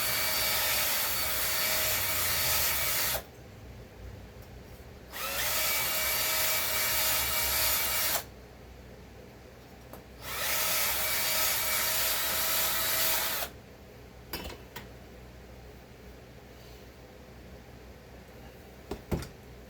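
Scraping carbon deposits from the cylinder of a Stihl 066 chainsaw: three loud, sustained bursts of harsh abrasive grinding, each a few seconds long, separated by quieter pauses with faint clicks and handling noise.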